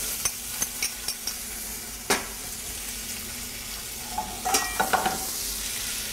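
Butter melting in a hot pan over lowered flame for a cranberry apple upside-down cake gives a soft, even sizzle, close by, with a few sharp scrapes and clinks of a utensil against the pan.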